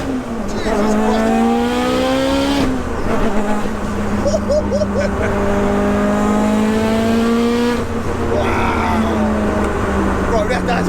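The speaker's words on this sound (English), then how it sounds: "It's so boosty. And the revs do, like, it revs for a long time, but they climb up on you quick there." A 900 bhp 2.0-litre Mitsubishi Evo 8 on boost pulls hard through repeated rising revs, loud and close from inside, with a short break between climbs and people talking over the engine.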